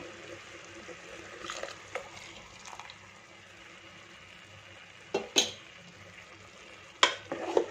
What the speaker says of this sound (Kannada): ಸ್ವಲ್ಪ ಇದನ್ನು ಮಿಕ್ಸ್ ಮಾಡ್ಕೊಳ್ತೀನಿ